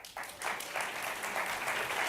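An audience at a film panel discussion breaks into applause, a dense wash of clapping that swells after a brief pause and holds steady, loud and close throughout, with no voices on top.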